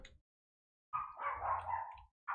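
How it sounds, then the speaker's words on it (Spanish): A dog in the Roblox game Piggy gives one drawn-out bark-like yelp, clear and close, after a short blip and a silent pause, with the start of another bark cut off at the end. "Capaz que el perro ladre es una buena señal"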